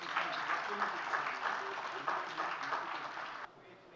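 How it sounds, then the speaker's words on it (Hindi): Audience at a Hindi youth poetry competition applauding a young poet, a full burst of clapping with voices mixed in that cuts off abruptly near the end. "तालियां"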